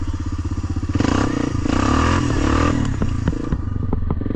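A quad ATV engine revving hard while its wheels spin in mud, a loud, close, rough motor roar that rises and falls, with clattering and splashing throughout.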